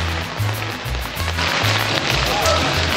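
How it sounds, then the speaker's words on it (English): Steady rain patters on the streets of Isla Mujeres with a constant hiss over a low, repeating hum in the background. "We can't let the rain stop our fun."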